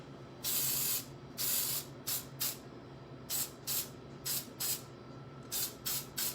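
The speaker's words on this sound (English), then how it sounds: "big, clean, sweeping motions, just like spray painting something" An airbrush sprays cupcake icing color in a series of short hissing bursts, about a dozen, two longer ones first and then quicker, evenly spaced puffs.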